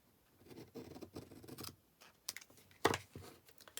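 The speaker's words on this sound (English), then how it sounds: "I'm going to cut this one off fairly short" Scissors make a few quick close snips and rustles while trimming paper pieces for a small stamped gift box, with quiet gaps between cuts.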